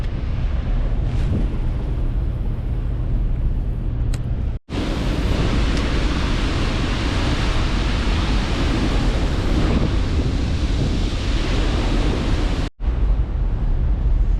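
Strong wind roars steadily over the river below a dam spillway, a loud broadband rush with microphone buffeting that drops out briefly twice before resuming.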